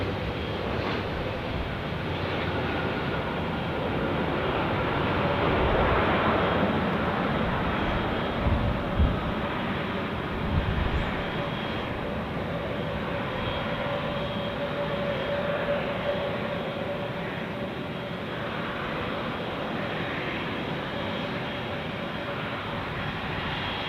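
A Qatar Airways Airbus A350 at Zurich airport gives off a broad, steady engine roar that holds for the whole stretch, moderately loud and continuous.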